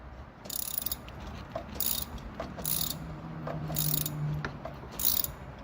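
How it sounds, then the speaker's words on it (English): A hand ratchet on a bolt spins a racecar fuel pump, giving close bursts of rapid clicking repeated about six times with short pauses between, fairly quiet overall. "I put a bolt and a ratchet where I could spin it"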